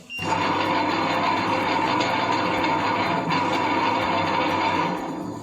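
An ultra fast wet grinder runs steadily with a loud, dense mechanical whirring hum and rattle, continuous and close, with no talk over it.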